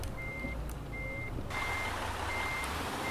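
In Euro Truck Simulator 2, a truck reverses with a steady series of evenly spaced, high electronic reversing beeps. The beeps play over a constant engine rumble that grows louder partway through, with no talking.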